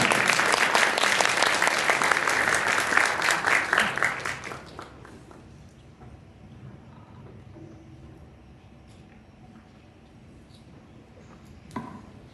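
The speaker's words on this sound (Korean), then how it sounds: "큰 박수로 아버님을 모셔보도록 하겠습니다" Wedding guests in a hotel hall applaud the groom's father, a dense, loud round of clapping that holds steady for several seconds, then thins out and fades to quiet room tone with a few scattered claps near the end.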